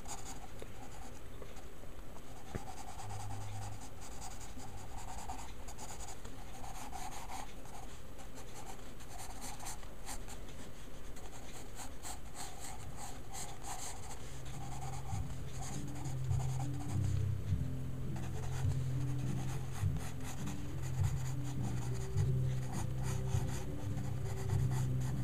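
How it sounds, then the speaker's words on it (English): Pencil sketching a fantasy warrior on paper, long continuous scratchy strokes and rubbing of graphite, close and steady throughout, with no speech. "Let's draw that sword in there."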